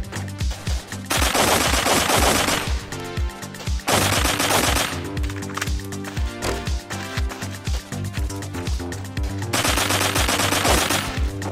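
Repeated bursts of machine-gun fire from enemies shooting down a hallway in the blocky shooter Blockpost, loud sustained volleys separated by short gaps and sharp single cracks, mixed with game music.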